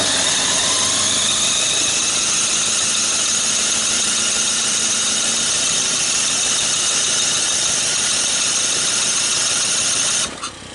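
A cheap portable generator, under $200, being cranked in cold weather runs as a loud, steady, close engine drone for about ten seconds before cutting off abruptly near the end.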